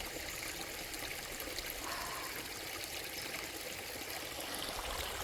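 A forest stream with a spring feeding it flows steadily, a continuous close trickle and wash of water with no voices.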